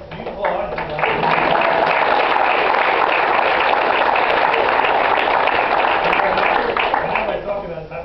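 Sustained audience applause at a lecture, a dense steady wash of clapping that builds in the first second and holds loud for several seconds before easing at the end.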